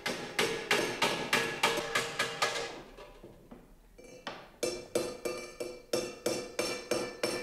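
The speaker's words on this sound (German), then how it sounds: "Er setzt den Falz ab. Dies geschieht zunächst mit dem Falzhammer." A seaming hammer strikes the edge of copper sheet in steady, evenly spaced ringing metallic blows, close and loud, with a short quieter pause midway before the rhythmic hammering resumes.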